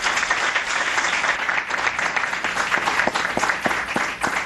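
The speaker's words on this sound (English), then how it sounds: "Please join me in a round of applause for our speakers." Conference audience applauds the panel speakers, a full, sustained round of clapping with sharp individual claps standing out, loud and even throughout, with no speech.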